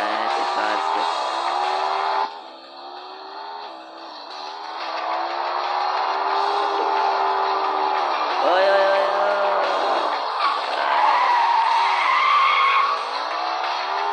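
Car in a driving game racing around an airport map with stunt ramps: a loud, continuous engine roar with repeated tire skids and squeals, dipping briefly near the start before building and holding steady.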